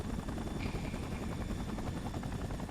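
Helicopter armed with a minigun in the video game Spider-Man 3, its rotor a steady loud broadband wash that churns evenly and continuously throughout, with no voices over it.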